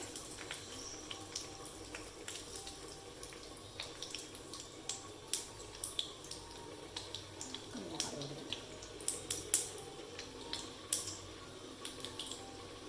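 Mustard seeds and urad dal land in hot oil for aviyal. A faint, steady sizzle carries scattered small pops and crackles, close but quiet.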